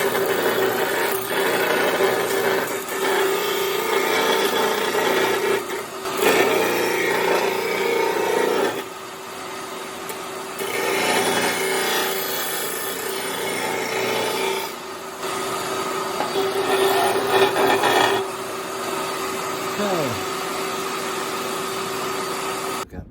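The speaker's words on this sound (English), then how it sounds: "Now I'm gonna take it on the grinder and I'm gonna deburr it a little better than what the factory did" A bench grinder deburrs a cast power steering part for a C3 Corvette steering box upgrade, grinding in a series of rough, rasping passes that swell and drop every few seconds, close and loud, with no talking.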